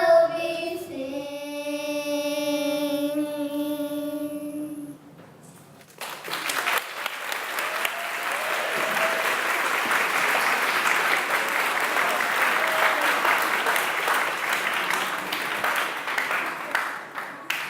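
A school hall crowd applauds kindergarten and first- and second-grade performers at an awards and promotion ceremony; a sustained, even burst of clapping follows the end of a sung note and holds steady before tapering off.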